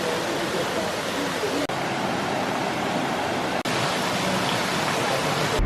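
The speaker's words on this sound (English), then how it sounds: "So we've seen the waterfall" Bigar Waterfall in Romania, a small moss-covered cascade, gives a steady, dense, roaring rush of falling water close by, unbroken apart from two brief dips.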